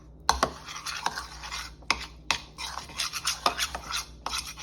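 Wet cookie dough ingredients with cinnamon being stirred in a mixing bowl for Mexican wedding cookies, a utensil scraping and clicking against the bowl in irregular close-up strokes.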